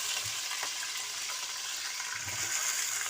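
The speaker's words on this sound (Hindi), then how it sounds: "अब इसमें मैं चिकन फ्राई करूँगी" Chicken frying in a pan with whole spices already roasted in the oil, a steady broad sizzle with faint stirring scrapes, close and continuous with no talk.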